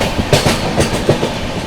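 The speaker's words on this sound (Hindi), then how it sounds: "अपनी हावड़ा राजधानी एक्सप्रेस ओवरटेक करने जा रही है भावनगर आसनसोल पारसनाथ एक्सप्रेस को" The Howrah Rajdhani Express overtaking the Parasnath Express at Naini Junction, with loud, close rhythmic clickety-clack of wheels over rail joints under a continuous roar of moving carriages.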